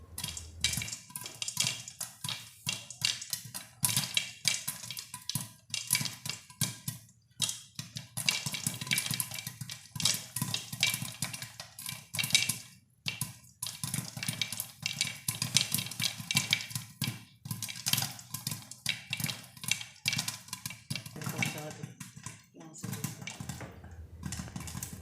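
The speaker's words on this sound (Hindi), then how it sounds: "ये चटकने शुरू हो गए हैं और बनने शुरू हुए हैं।" Popcorn kernels popping rapidly in a covered pan on medium heat at home, a dense continuous crackle of sharp pops with some rattling of the pan, close and fairly loud throughout.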